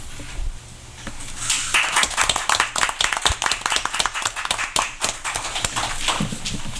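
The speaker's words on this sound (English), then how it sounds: "let us give you a hand of applause" Audience at a city council meeting applauds a newly elected mayor, a dense burst of many hands clapping that swells and holds steady for several seconds, fairly close and loud, with no talking over it.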